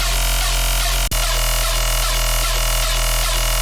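The Multitasking 2 bass preset from Bass Forge plays a loud, buzzy synth bass in a quick pulsing rhythm, with one brief cut partway through and no voices.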